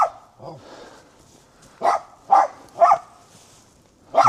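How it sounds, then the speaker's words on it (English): A dog barks in short separate bursts, five or six sharp barks spaced irregularly over a few seconds, fairly close and loud, on a hill near stairs at the border crossing from Northern Ireland into Ireland. "That's a dog, isn't it?"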